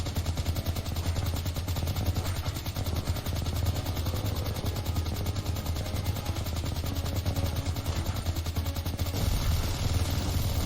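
Rapid, continuous gunfire rattles on with rumbling blasts underneath, a dense, relentless barrage of shooting and explosions from an arcade fish-shooting game with no speech.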